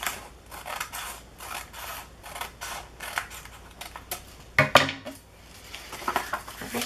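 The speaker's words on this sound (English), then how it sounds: "And now I'm just going to flip it and cut off the excess." Repeated crisp snips and rustling as scissors trim excess gel print paper, quick irregular cuts close up with light handling noises in between.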